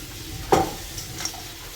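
Capsicum and garlic greens drop into a hot pan for a Basa fish chilli stir-fry, giving a sharp hiss and sizzle on contact, then a faint second sizzle and soft stirring.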